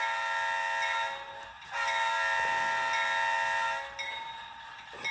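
Horn of an H.O scale Atlas Gold Norfolk Southern C40-8 model locomotive sounding in loud multi-tone blasts, a long one, a brief dip, then a second long blast and a shorter one after a gap, with no talking.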